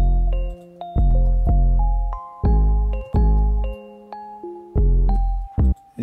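A bass sound plays in an FL Studio beat, a run of deep, sustained notes with sharp attacks and slow decays, layered with higher melodic tones, loud and close with no talking over it.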